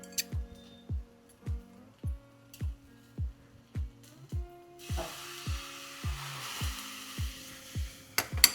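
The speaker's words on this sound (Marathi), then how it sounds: "आणि पुन्हा छानसं परतून घेऊया" A dish with lemon juice and chopped coriander being stir-fried in a pan, a steady series of about a dozen gentle spatula knocks and scrapes at an even rhythm, with a soft sizzle rising partway through.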